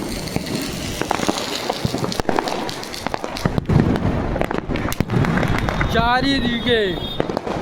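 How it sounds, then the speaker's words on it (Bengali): Diwali fireworks and firecrackers going off all around in Coimbatore, Tamil Nadu: a dense, loud stream of crackling, popping and sharp bangs near and far, with someone talking over it and a high whistling rocket near the end. "চারিদিকে বোম ফাটছে, এত বাজি চারিদিকে ফাটছে"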